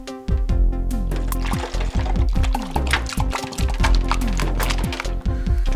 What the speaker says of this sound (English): Now watch what happens when I pour the yeast into the plastic